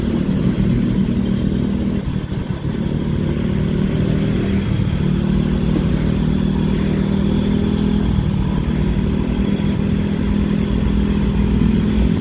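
Intercity bus engine droning and straining while overtaking on a road at night, a steady loud rumble with rising revs and rattling, continuous for the whole stretch with no talk.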